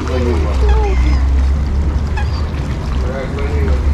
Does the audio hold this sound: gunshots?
no